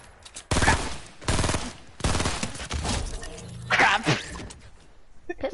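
Heavy, booming shotgun shots from a video game, a run of four or five loud close blasts at uneven intervals with brief gaps between them.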